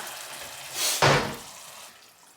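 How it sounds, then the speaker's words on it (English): A cup of water poured into a pot while cooking chicken adobo, a short splashing gush of about half a second, close and moderately loud in a quiet kitchen. "I'm going to add a cup of water."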